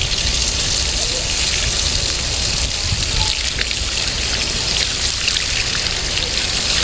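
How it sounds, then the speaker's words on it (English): Steady hiss of running water rinsing a K&N air filter, a continuous close spray with a trickling, splashing texture and no pauses. "So we're going to rinse it at this point."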